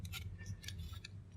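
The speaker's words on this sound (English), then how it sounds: "just smoothing out the shape a little bit using the knife" Knife carving a timber crankbait body, several short scraping shaves in quick irregular succession, quiet and close with a light hum underneath.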